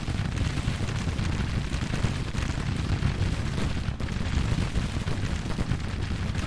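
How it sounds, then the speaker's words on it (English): Artillery fire in the Civil War strategy game Grand Tactician rumbles as a continuous, dense barrage of booms, blending into a heavy, distant-sounding roar with no distinct gaps. "The artillery should be ripping holes in these units."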